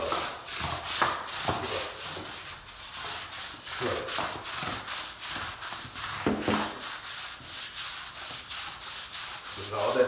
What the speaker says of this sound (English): And I just scrub.